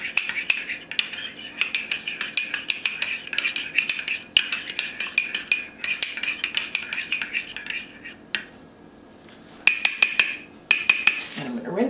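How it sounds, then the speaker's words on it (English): A spoon stirs a green-coloured mixture in a bowl, with a steady run of bright metallic clinks and scrapes against the bowl, a short pause near the end, then more quick taps. "I'm going to mix up the green one first."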